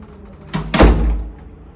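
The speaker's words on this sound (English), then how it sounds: "Door closing." A door swings shut with a single solid thunk and brief rattle, close by and loud against a quiet room, then fades into low background hum.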